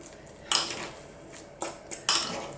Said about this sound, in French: je vais essayer de l'écraser avec mon presse-purée